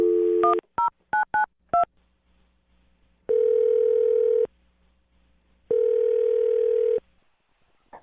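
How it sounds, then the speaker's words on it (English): A telephone number being dialed: a quick run of clear DTMF keypad beeps, then two long electronic ringback tones separated by silence, loud and close with no voices. "I'm going to dial his phone number right now"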